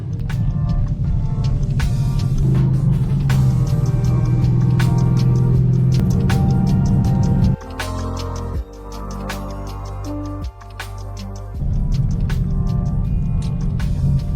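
A car drives along the road with a steady, fairly loud engine drone and tyre hum that drops and shifts pitch twice partway through, as if slowing or changing gear, before the cruising sound resumes.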